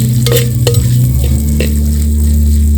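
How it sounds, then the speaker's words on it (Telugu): Green chillies fry in a mix of oil and ghee in a pot, giving a continuous sizzle with a low hum beneath and a few sharp clinks of stirring utensils against the pan. "పచ్చిమిర్చి, కొంచెం ఆయిల్ కొంచెం నెయ్యి వేసుకొని ఇవన్నీ ముందుగా ఫ్రై చేసుకోవాలండి ఇట్లాగా"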